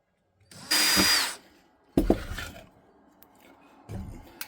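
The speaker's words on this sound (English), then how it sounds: "Now I'm gonna drill another hole" A power drill whines loudly for about half a second, then clunks and rattles as it bites into copper for a wind chime, with a short second burst near the end.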